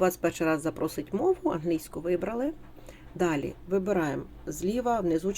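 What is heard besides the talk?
No distinct noise like a dog, phone or traffic.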